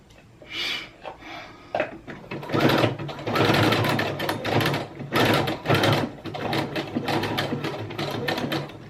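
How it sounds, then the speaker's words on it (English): Sewing machine running a zigzag stitch on fabric for a bra, fast mechanical rattling in loud bursts with brief pauses between runs, close and steady. "I'm actually going to use the zigzag that I currently have on my machine."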